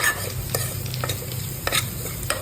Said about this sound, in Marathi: आता आपण तमालपत्र टाकूया नंतर खडे मसाले सर्व आपण टाकून घेऊया इथे एकत्र करून घेऊया सर्व